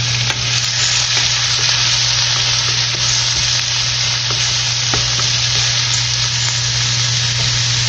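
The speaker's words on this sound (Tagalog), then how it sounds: "Tapos igisa natin yung pang-garlic" Garlic and onion sautéing in a pan for a Maranao-style chicken curry, a loud, dense, continuous sizzle with a low steady hum underneath and light clicks of stirring.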